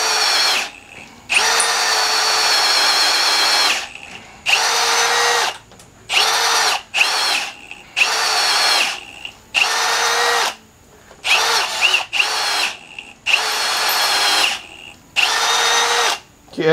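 A power drill bores into wood while building a bench, in repeated loud whining bursts of a few seconds each, separated by short pauses, close to the microphone.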